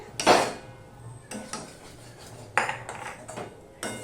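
Roasted besan stirred into bitter gourd in a pan: several sharp metal spoon scrapes and knocks against the pan in an uneven rhythm, close by, with no talk.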